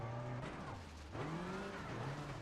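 Rally car in a racing video game, a 2006 Ford Focus Mk II RS WRC on the Safari Rally Kenya stage, brakes hard with the engine note dropping and rising again. Tyres scrub and skid briefly, heard close and alone.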